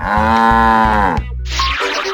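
A loud, close cow moo used as a game-show sound effect in You Don't Know Jack (2011): one long, drawn-out bellow with a clear tone, followed by a short burst of other noise.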